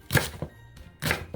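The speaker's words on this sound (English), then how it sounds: "Rough chop." Knife roughly chopping vegetables on a cutting board for a chestnut and butternut squash soup, two quick bursts of close thunking cuts with a short pause between, no talk.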